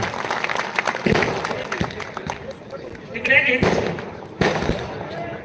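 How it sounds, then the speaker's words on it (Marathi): Crowd at a political rally clapping, a dense burst of applause from many hands that swells and fades, with a loud amplified voice speaking over it. "जोरदार टाळ्या, हात वरती, जोरदार टाळ्या भैयासाहेबजी कोकाटे यांच्यासाठी"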